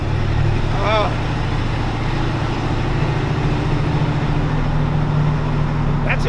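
A car engine's throaty exhaust roar holds a steady, droning hum throughout, with voices talking over it.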